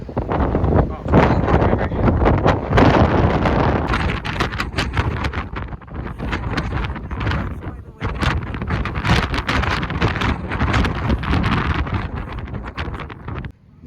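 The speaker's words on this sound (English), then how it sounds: "I'm sure you can tell it is very, very windy" Strong gusts batter the microphone at a windy roadside stop in the Columbia River Gorge, Oregon, a loud, continuous low roar with rumbling buffets throughout.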